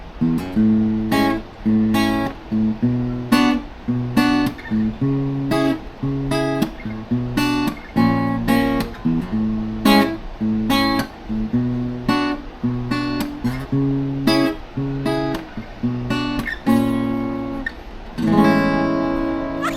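Acoustic guitar strings are plucked in a steady, repeating picking pattern, clear and close, with no talking.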